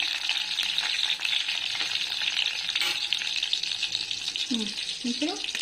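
Chillies fry in hot oil for a kanda bachali curry, a continuous loud, close sizzle and crackle that runs throughout, with a brief voice murmuring near the end.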